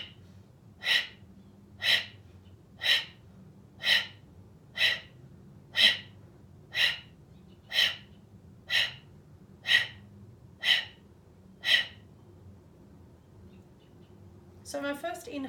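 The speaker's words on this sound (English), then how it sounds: "I do like to close my eyes for my Kapala Bhati breath" Kapalabhati breath-of-fire yoga breathing, a steady series of about twelve sharp, forceful nasal exhales roughly once per second, close and loud, followed by a brief rougher burst of breath at the end.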